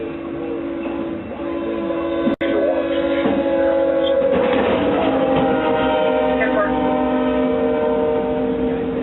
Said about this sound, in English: a 118-car freight train bears down